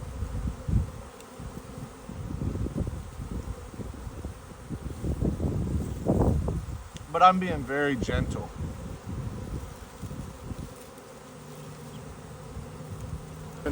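A honeybee swarm being dug into by hand gives a steady insect buzz that rises around the middle, heard close under a person speaking quietly.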